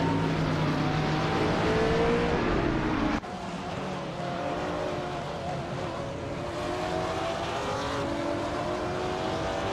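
Racing cars including a Subaru Impreza and a 2015 Lamborghini Huracan GT3 drone steadily in a racing video game, engines holding a continuous whine with a gear change partway through, loud and unbroken with no talk.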